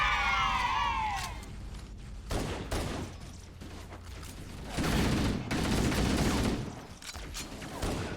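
A Covenant dropship's rear-mounted gun fires in Halo: Combat Evolved, sending repeated heavy bursts of rapid shots in several loud volleys over a low ambient rumble.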